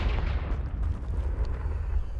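A Confringo blasting spell goes off in Hogwarts Legacy, a deep, rolling boom that rumbles on steadily for a couple of seconds, loud and full-bodied with no voices over it.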